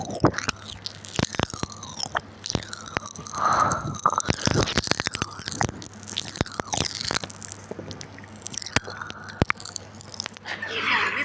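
Crunchy food being bitten and chewed close to the microphone, with repeated crisp crunches and wet mouth sounds throughout, while a voice speaks softly in places.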